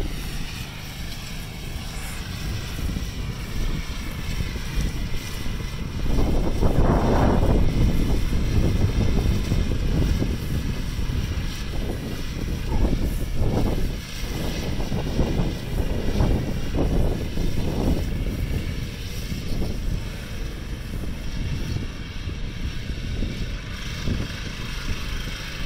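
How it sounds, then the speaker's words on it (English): Kohler engine on a John Deere 316 lawn tractor mowing outdoors, a steady close engine drone with wind buffeting the microphone and rising, uneven surges under load; no talking. "That old Kohler just keeps on chugging away."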